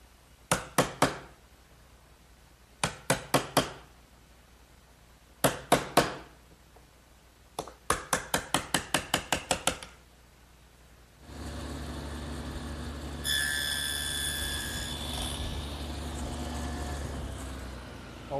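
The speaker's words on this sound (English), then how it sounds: "All the rabbets and dados that we've made have to be chiseled out so that they're square. And I'll just do that with an ordinary chisel." An ordinary wood chisel cleaning out rabbets and dados in a chest-of-drawers build, heard as loud, close bursts of sharp strikes grouped in threes and sixes, followed by a steady rumbling machine noise.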